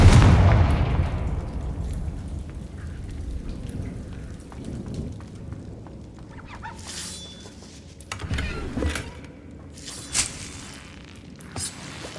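A fiery Confringo spell blast from the video game Hogwarts Legacy: a steady roaring, rain-like wash broken by a few deep booming bursts in the later part.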